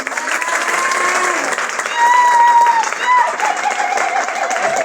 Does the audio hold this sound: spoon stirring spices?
no